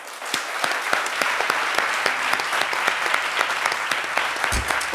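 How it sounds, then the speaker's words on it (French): An audience in a television studio claps continuously to welcome a guest onto the set of a midday talk show, producing bright, crisp, evenly sustained applause with no speech over it. "Nous allons accueillir M. Sérigno Leba, sous vos applaudissements."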